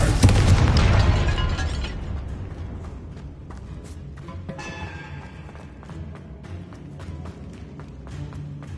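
Confringo fire spell blasts in the video game Hogwarts Legacy: a loud booming explosion up front decaying into crackling debris, then scattered pops and clatter fading under a low game rumble.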